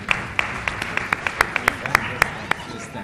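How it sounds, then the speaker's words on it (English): Scattered, fairly sparse hand claps ring out at regular intervals for scholarship winners at an annual lecture, crisp individual claps over a murmuring hall with voices underneath. "A round of applause for them."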